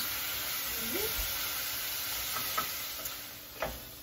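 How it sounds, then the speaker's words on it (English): Onions cooking in a pan until soft give off a low, steady sizzle and hiss, with a few soft clicks and taps from stirring near the end. "So we're gonna cook those onions until they are soft."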